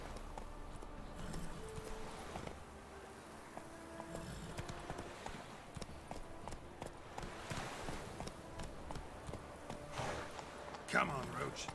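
Roach, the horse from The Witcher 3, trots with rhythmic clip-clop hoofbeats running throughout at moderate volume, mixed with game ambience while someone talks over it.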